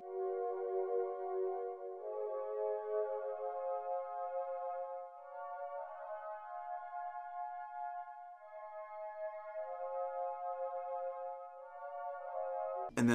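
Soft PWM synth pad from the Xenology soft pad 1 preset plays a sustained chord progression in a pluggnb beat, smooth evolving held chords at steady level with no talk, ending in a brief sharp click.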